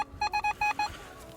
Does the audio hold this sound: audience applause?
no